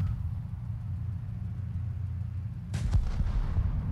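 A single booming tank cannon shot in a tank video game lands about two-thirds of the way through, cutting through a steady low engine rumble, followed by a short rolling tail.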